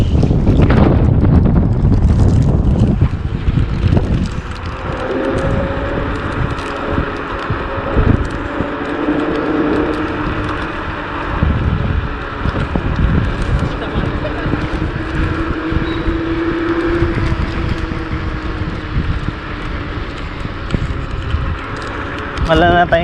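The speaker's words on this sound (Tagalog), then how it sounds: "Mahangin kasi." Gusty wind buffets the microphone outdoors beside a metro station, a steady rushing roar with low rumbling bursts, while people talk over it and passing traffic hums in the background.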